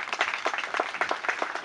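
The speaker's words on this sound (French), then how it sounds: "Je vous prie d'applaudir encore une fois," Applause at a funeral gathering, a modest crowd clapping in a brisk irregular patter, moderately quiet and short, no talk over it.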